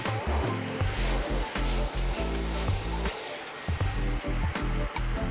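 A hair dryer blows steadily and loudly during a short barbered haircut, its airflow roar pulsing slightly as the nozzle moves through the hair.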